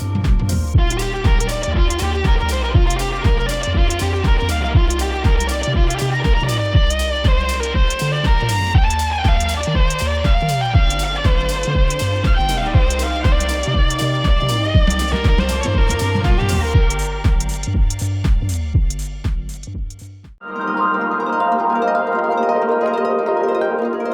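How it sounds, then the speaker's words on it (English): Violin run through a parametric EQ pedal and a boost pedal with up to 30 dB of gain, a loud, busy rhythmic passage of bowed and plucked notes that ends in a brief quiet swell. "my tone on my violin has completely transformed because of these two pedals"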